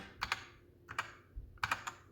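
Three quick clusters of clicky key presses on an HK Gaming GK61 mechanical keyboard, crisp and close, separated by short pauses.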